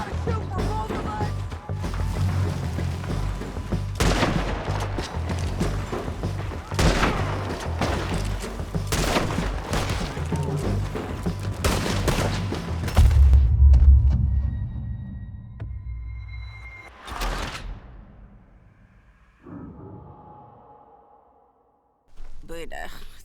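Gunfire in Red Dead Redemption 2 during a firefight at a barn, with dense volleys of shots and booming impacts over a low rumble, thinning out toward the end as voices speak over the action.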